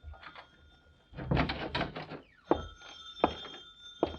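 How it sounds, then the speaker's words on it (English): An old telephone bell rings in short bursts in an indoor setting, several rings separated by pauses, mixed with clunks and handling noises like a receiver or door. "Uh-oh, the phone."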